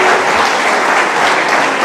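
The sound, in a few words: audience applause for a speaker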